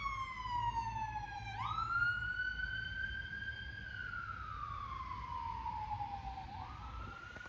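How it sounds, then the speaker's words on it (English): A wailing siren rises and falls in long sweeping tones, clear and steady over a low background rumble of traffic. "The siren, right?"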